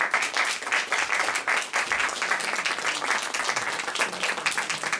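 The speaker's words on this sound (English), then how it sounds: "let's begin with a big round of applause for our performers today" Steady, dense clapping from a recital audience greeting the performers, a full round of applause sustained at even strength throughout.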